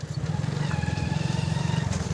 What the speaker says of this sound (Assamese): তো আমিও লাহে লাহে গৈ আছোঁ আৰু বাইকত।